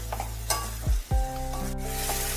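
A spoon stirs amchur powder into a frying mixture in a pan, with a couple of sharp scraping strokes over a low sizzle and a brief clink, close by and moderately loud.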